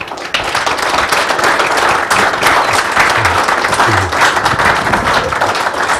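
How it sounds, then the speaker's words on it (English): A room full of guests at a BBG Delhi Leadership Series gathering breaks into a sustained round of applause for two honorees, dense, even clapping that holds steady and fairly loud for the whole stretch. "please give a big round of applause for Mr. Bagla and Mr. Bose"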